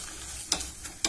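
Tadka tempering for restaurant-style dal fry, hot oil with dried red chillies sizzling in short bursts with a couple of sharp crackles, no talk.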